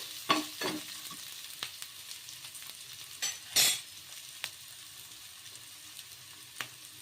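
A spoon stirs wheat rava batter mixed with onions in a bowl, scraping and clattering in irregular strokes, with a couple of louder, wetter swishes midway, close and alone.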